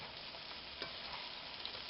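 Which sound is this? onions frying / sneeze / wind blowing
onions frying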